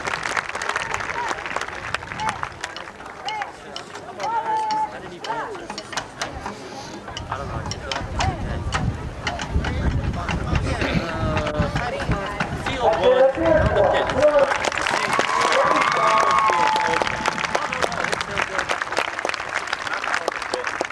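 A crowd gives scattered outdoor applause at a 1992 recreation league opening day parade ceremony, the clapping running under an announcer's amplified voice and building louder in the later half.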